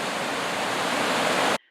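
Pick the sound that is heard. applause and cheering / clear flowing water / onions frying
clear flowing water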